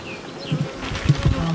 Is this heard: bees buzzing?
yes